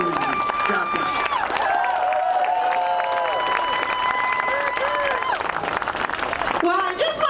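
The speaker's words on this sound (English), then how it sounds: "I just want to give a big round of applause for these county commissioners" Dense, sustained applause from a large outdoor rally crowd at a Timber Unity protest against cap-and-trade, loud and continuous for several seconds with cheering and voices mixed in beneath the clapping.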